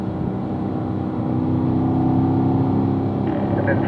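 Car engine pulling steadily in fifth gear on a driving-school track, a sustained loud drone that rises gradually in level, with no talk over it.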